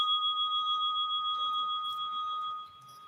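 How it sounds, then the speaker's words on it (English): A single bell tone rings out to close a session, a pure sustained ring that holds steady for a few seconds and then fades, with no talk over it. "And there's our final bell."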